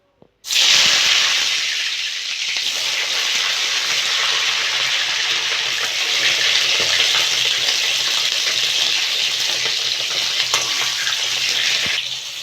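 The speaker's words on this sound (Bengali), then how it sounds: "তেলটা গরম হয়ে গেছে, এগুলো ভেজে নেব" Pointed gourd (potol) frying in hot mustard oil in a wok, a loud steady sizzle and hiss that starts abruptly and holds continuously, with no talking.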